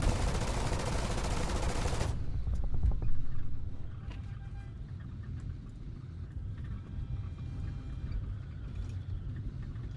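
Aircraft gunfire rattles in a dense burst during an Avia SB flight sim dogfight, loud for about two seconds, then gives way to a low engine drone with scattered faint pops.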